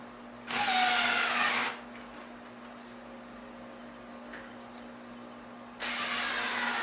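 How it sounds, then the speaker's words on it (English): A power driver whirs in two short bursts, tightening screws on a solid oak Mission-style dining chair, loud and close with a quiet hum between. "I used a hand driver to tighten them down"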